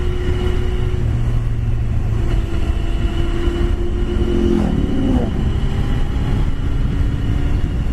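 A Yamaha Fazer motorcycle, a sport bike related to the 1000cc version, runs on an open road with a steady engine drone that rises and shifts in pitch as it pulls away, heard over constant wind noise.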